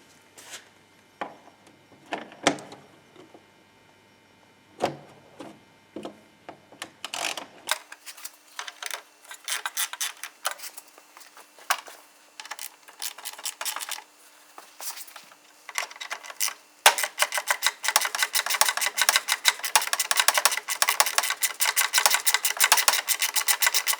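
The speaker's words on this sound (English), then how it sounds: "to remove it, you need to remove top left screw, top right screw, bottom left screw and bottom right screw" Screws being removed from the radiator fan of a Peugeot 307 car, with scattered metallic clicks and scraping, then a continuous buzzing ratchet-like grinding that grows denser and louder toward the end, with no speech.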